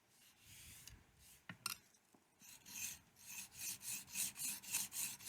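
A knife is sharpened on a finer grit stone, first with scattered scrapes, then a steady run of rhythmic rasping strokes back and forth, close and quiet.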